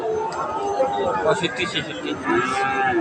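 Cattle, Friesian and crossbred bulls, lowing amid a busy crowd at a cattle market in Badarganj, with people chattering and haggling over prices close by throughout.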